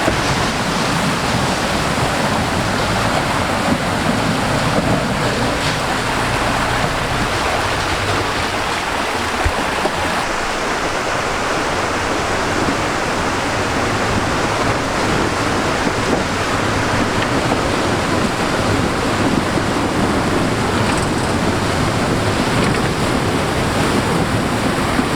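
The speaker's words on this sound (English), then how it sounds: "There's two creeks right here that converge, and it's just really beautiful, really loud waterfalls and dams and stuff like that." Loud waterfalls roar steadily where two creeks converge along Charlie's Creek in Georgia, a dense, unbroken rush of falling water with no voices, filling the whole stretch evenly from start to finish.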